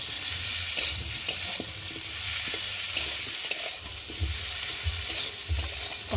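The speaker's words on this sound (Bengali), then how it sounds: "দিয়ে ভালো করে আলুটাকে কষিয়ে নেবো মশলার সাথে" Potatoes sautéing in a pan with cumin, ginger and spices give a steady close sizzle, broken by the occasional scrape and clink of a spatula. No one speaks.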